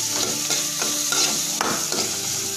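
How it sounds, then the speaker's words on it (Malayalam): Chopped small shallot-type onions sizzle in hot oil in a pan, loud and close, while a spoon scrapes and stirs them in several quick strokes. "ഇനി ഇതിലോട്ട് ഞങ്ങൾ കട്ട് ചെയ്ത് വെച്ചിരിക്കുന്ന ചെറിയ ഉള്ളി ഇതിലോട്ട് ഇട്ട് കൊടുക്കും."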